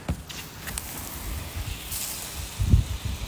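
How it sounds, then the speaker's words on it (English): Wind buffets the microphone with low rumbling gusts and hissy rustling, swelling into a stronger blast near the end. "It's windy out here, man. Very windy out here."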